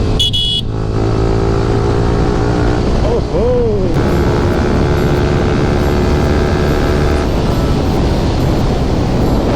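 A motorcycle ride with a loud, continuous engine drone and heavy wind rush close to the microphone, a brief rising and falling engine note in the middle, and no clear talk.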